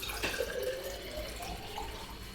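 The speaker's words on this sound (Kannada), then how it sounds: "ಖುಷಿ ಒಂದು ಸ್ವಲ್ಪ ನೀರು ತುಂಬಿಕೊಡು." Water runs from a household tap into a container, a steady close trickle with faint rising tones as the vessel fills, heard alone without talk.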